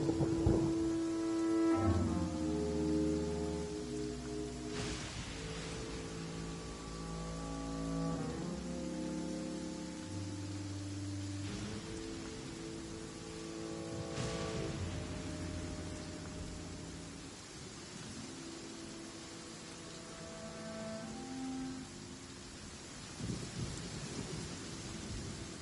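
A thunderstorm with rain in the video game Genshin Impact: steady hissing rainfall with occasional thunder cracks, layered under tonal game music throughout.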